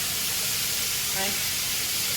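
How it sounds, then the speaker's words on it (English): Steam hisses and sizzles in a hot pan of hakka noodles after a tablespoon of water is added. The broad hiss is steady and fairly loud throughout, with a brief swell near the middle. "tablespoon of water, just to help generate some steam in the pan and make sure the noodles are nice and piping hot"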